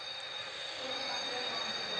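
Train with a locomotive passing in a video game, heard as a continuous close rolling rumble with a bright metallic hiss and squeal layered over it, steady and unbroken throughout.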